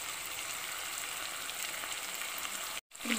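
Chillies fry in hot oil with onions for a mutton keema curry, giving a steady, soft sizzling hiss that runs on evenly and cuts out briefly near the end.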